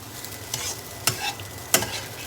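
A spatula stirs rice with lemon chicken in a frying pan. Several scraping strokes rise over a soft, steady sizzle.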